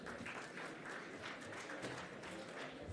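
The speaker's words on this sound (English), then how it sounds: "Please give yourselves a big round of applause." Audience at a hydrogen summit conference applauding, a steady wash of distant clapping from a crowd, faint and continuous throughout.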